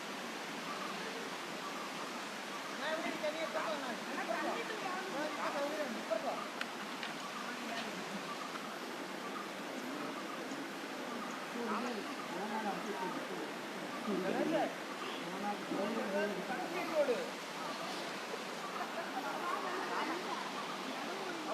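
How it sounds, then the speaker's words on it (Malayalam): A waterfall at Meenpidipara near Kottarakkara, Kerala, gives off a continuous broadband rush of falling water that stays steady throughout, with faint voices murmuring underneath. "ഇവിടെ ഒരു വെള്ളച്ചാട്ടം ഇവിടെ പണിയുന്നേ ഉള്ളൂ"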